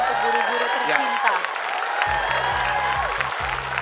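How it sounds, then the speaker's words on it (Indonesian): Audience applause for teachers at a school competition show, continuous clapping and some crowd noise running throughout, with a voice talking over it. "Tepuk tangan dulu ya untuk guru-guru tercinta."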